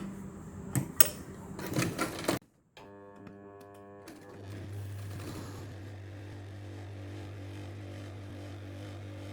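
Sewing machine stitching a blouse at a tailoring table, with a few loud clatters at the start, then a steady mechanical whir and hum running on alone.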